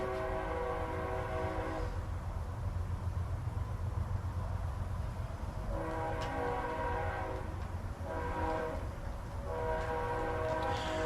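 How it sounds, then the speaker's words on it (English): A train rumbles past with repeated blasts of its horn, long tonal honks separated by brief pauses over a steady mechanical roar. "Train."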